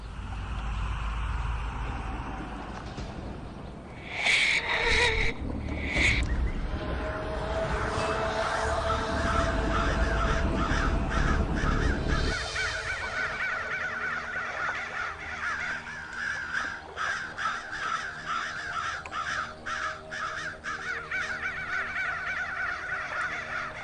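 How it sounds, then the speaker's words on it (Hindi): A large flock of crows cawing and flapping overhead, a dense, continuous chorus of harsh calls that stays loud throughout, with a heavy low rumble early on giving way to clearer, overlapping caws. "इतना सारा कौवा उड़ रहा है"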